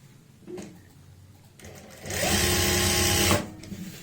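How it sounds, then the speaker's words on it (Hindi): A sewing machine stitches the lining of a kameez, starting with short bursts and then running in a loud, steady whir for over a second before stopping, close up with no talking. "अब हम दूसरी प्लेट के लिए भी जहां से हमने प्लेट डालनी है वहां पे ये सिलाई लगाएंगे"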